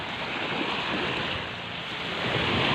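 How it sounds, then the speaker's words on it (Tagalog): Sea waves wash steadily along the shore at San Juan, Lipa, Batangas on a summer day, a dense continuous surf roar with wind buffeting the microphone, rising slightly toward the end, with no voices. "basta ito na yung dagat San Juan Lipa Batangas"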